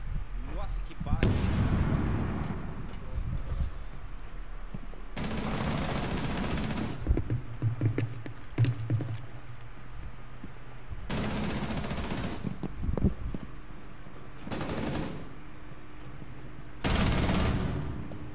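Bursts of rapid gunfire in a ranked Rainbow Six Siege match, several loud volleys separated by quieter stretches, with players talking over the action.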